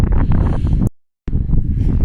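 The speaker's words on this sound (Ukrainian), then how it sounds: "піднявся вітер, буду закривати мікрофон" Gusty wind buffets a handheld microphone outdoors beside an old brick Gothic-style church in Poland, a loud low rumble that cuts out abruptly midway, then returns just as strongly for the rest.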